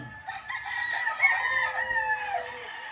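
Gamefowl roosters kept with hens in a hardening pen crow loudly and close by, one long drawn-out crow trailing over soft clucking and farmyard background, with no voices.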